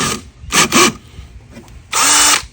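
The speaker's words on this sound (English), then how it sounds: "that one step drill will work just fine" Step drill boring a fill port into a plaster of Paris lure mold, three short, loud whirring bursts with brief pauses between them, the last one longest, with no talking.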